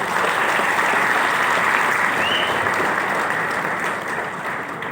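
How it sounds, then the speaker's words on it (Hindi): Large audience applause at a packed sales event hall, a dense, steady wall of clapping that stays loud throughout and eases slightly toward the end, with no talk over it. "तो जोरदार तालियां सबके लिए।"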